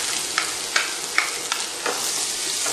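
Chopped onion and dried red chili sauteing over a low flame in a pan, a steady close sizzle with a few soft stirring scrapes, no voices.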